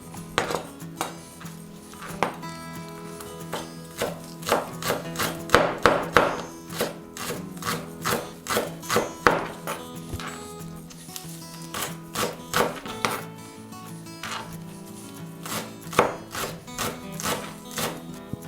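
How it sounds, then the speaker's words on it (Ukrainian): A knife chopping fresh greens finely on a wooden cutting board, steady rapid rhythmic thuds continuing for a long stretch, close and clear, with no voices. "Беремо зелень і нарізаємо мілко"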